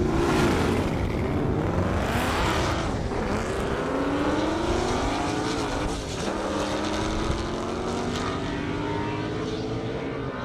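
A 1,000-horsepower Ford Mustang and a BMW drag race side by side down an airport half-mile strip, engines roaring loud and continuous with rising and falling gear-change whines for the whole run.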